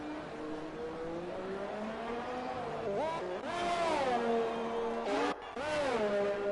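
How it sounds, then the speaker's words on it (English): A race car engine in a racing video game screams up through the gears onto the pit straight after the final chicane, its pitch climbing and dropping at each shift, loud and steady beneath continuous commentary. "coming around the final chicane onto the pit straight, looking to set another lap here on those soft tires"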